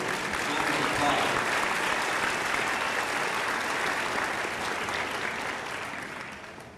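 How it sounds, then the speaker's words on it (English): Sustained audience applause at a Kent State East Liverpool spring graduation ceremony, a dense, even roar of many hands that holds strongly and begins to taper toward the end. "Let's give him another round of applause."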